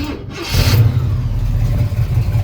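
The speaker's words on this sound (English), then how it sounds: "I'm gonna fire it up here real quick" A 1967 Chevrolet Chevelle SS396 V8 cranks briefly and fires up, settling into a loud, steady, rumbling idle close by.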